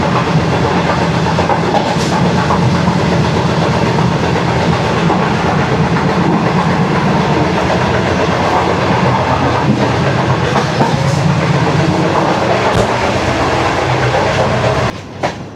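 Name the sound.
Shalimar Express train running on rails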